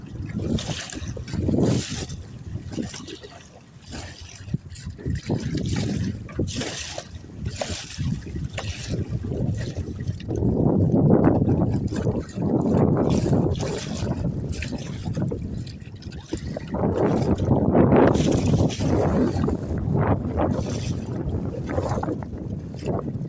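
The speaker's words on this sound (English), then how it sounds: "Pretty big waves out here." Big waves slap and wash around a small fishing boat on open water in fall, with loud surging swells and gusts of wind buffeting the microphone throughout.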